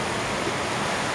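Water boiling with melted jaggery in a pot for red ginger tea, a steady broadband bubbling hiss that holds evenly throughout, close and continuous with no talk.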